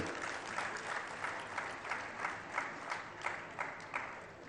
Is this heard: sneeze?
no